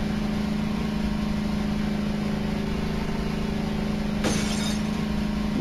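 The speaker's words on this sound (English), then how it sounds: "That sounded just like glass." Glass shatters in the horror game Voices of the Void, one sudden bright crash late in the moment, cutting through a steady low engine-like hum with no talk.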